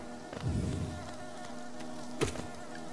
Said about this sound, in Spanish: Me pone nerviosa el zumbido de las abejas.